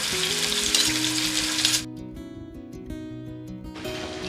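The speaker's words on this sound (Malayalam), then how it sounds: "എണ്ണ ചൂടായി കഴിയുമ്പോൾ നമുക്ക് ഈ പീസസ് എടുത്ത് അതിലേക്ക് ഇട്ട് കൊടുക്കാം" Chicken pieces frying in hot sunflower oil in a non-stick pan, a loud steady sizzle for the first two seconds that drops to a quieter crackle, with background music throughout.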